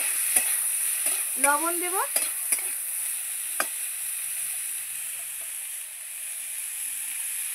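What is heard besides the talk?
flat beans (sim) frying and being stirred in a pan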